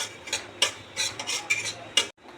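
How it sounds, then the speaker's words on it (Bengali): Semolina roasting in a pan as a spoon stirs continuously, giving light scraping clicks and taps against the metal in a quick irregular rhythm, close and fairly quiet, with no talk. "সুজিটা একটু ভেজে নিতে হবে ভালো করে, অনবরত নাড়তে হবে, নাহলে পুড়ে যাবে।"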